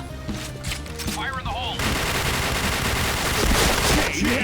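Rapid bursts of gunfire from a Pindad gun in the Point Blank video game, dense and loud throughout, layered over game effects with a voice faintly mixed in.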